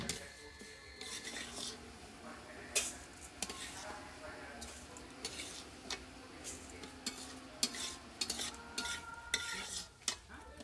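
Fried dal being stirred in a pan for khichuri, with repeated metal scrapes and clinks of a spoon against the pan over a faint sizzle, close and uneven in rhythm.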